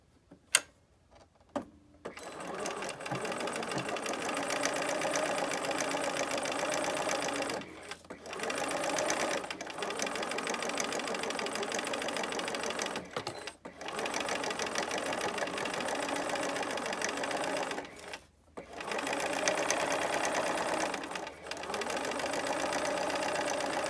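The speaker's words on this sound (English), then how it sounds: "now we're going to stitch our bottom" Sewing machine running a seam along the bottom edge of fabric, loud and close, in several sustained bursts of rapid stitching separated by short pauses.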